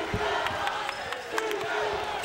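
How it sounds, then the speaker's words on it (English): Sellout crowd filling the University of Dayton Arena at an NCAA first-round Midwest region basketball game between Evansville and UTEP, a steady dense murmur with scattered sharp ball-bounce and sneaker thuds, and a commentator talking over it. "Sellout crowd at the University of Dayton Arena watching this final game of the first round in this Midwest region."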